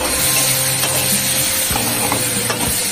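Egg curry masala for a red Bengali egg jhol is sautéed in hot oil, a loud continuous sizzle with repeated scraping strokes of a spatula stirring in the pan, close up and without talk.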